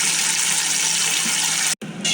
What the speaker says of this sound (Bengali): এটার মধ্যে জল দিয়ে দিয়ে